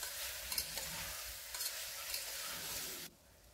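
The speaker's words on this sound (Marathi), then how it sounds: "सर्व भाज्या त्यात टाकून चांगल्या परतवून घ्यायच्या आहेत।" Mixed vegetables for masoor pulao tossed in a pan: a soft, continuous sizzle with scraping stirs at a few moments, fairly quiet and close, then fading abruptly near the end.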